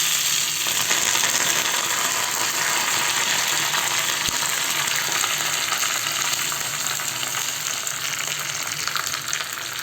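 Curry leaves are crushed into hot oil for Hyderabadi dal, raising a loud, close, continuous sizzle and crackle that holds steady throughout, with one sharp tap partway through and no talking.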